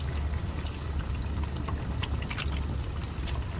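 Water pours steadily into a cooking pan of white oyster mushrooms, a continuous close trickling wash with a low rumble underneath.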